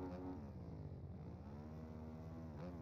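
A motorcycle engine in a racing video game, revving at the start line with a steady, close, buzzing drone that dips slightly and then rises again, with no talking.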